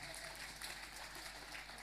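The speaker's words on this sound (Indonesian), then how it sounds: "Silakan kalau tepuk tangan jangan setengah-setengah." An audience at an Islamic gathering in East Java gives steady applause, a faint but continuous patter of many hands clapping with no voices over it.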